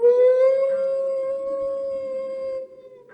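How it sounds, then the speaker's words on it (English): A single long, sustained werewolf howl rises and holds steady, distant and mournful, with a faint tail-off at the end; no voices. "all the while hearing a distant howling"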